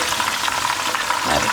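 Pork katsu cutlets fry in hot oil, giving a steady, close crackling sizzle with no pauses and no voices.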